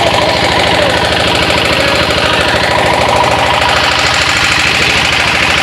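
A small boat's engine runs at a river ferry ghat with a loud, close, steady chugging and rapid pulsing that does not let up, and no voices are heard.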